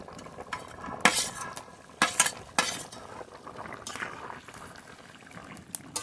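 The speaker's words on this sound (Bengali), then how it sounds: "ভালো করে এবার জাল দিয়ে নেব" A pot of fish and potato curry bubbles on the stove, a steady low simmer broken by a few sharp clinks of a spoon or ladle against the metal.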